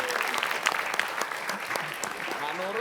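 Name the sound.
studio audience applause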